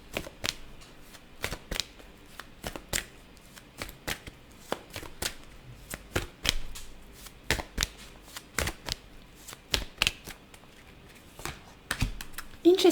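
A deck of tarot cards being shuffled by hand, close and fairly quiet, with irregular bursts of crisp riffling and tapping clicks spread throughout.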